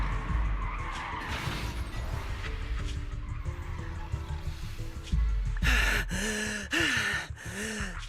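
A truck skids with a drawn-out, wavering tire squeal as it swerves into a hollow in the Zenless Zone Zero video game, loud over a steady bed of game music and rumble.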